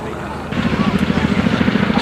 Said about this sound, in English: It is Middle Wallop with more helicopters than you're ever likely to see